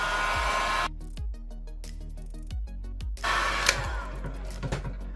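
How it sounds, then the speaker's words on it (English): A heat gun blows with a steady whooshing roar that cuts off and restarts, with some knocking and handling noises in between, during a Samsung Galaxy S22 Ultra charging port repair. "we're gonna grab our heat gun and just blow heat"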